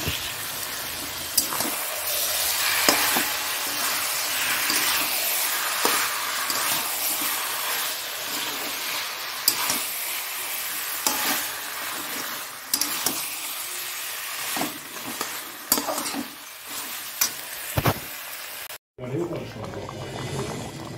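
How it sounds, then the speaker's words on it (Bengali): Chicken sautéing in a pan, with a continuous close sizzle broken by repeated spatula scrapes and stirring clatters for most of the stretch, then a sudden cut to a quieter background near the end. "আর এদিকে মাংসটা কষাচ্ছি"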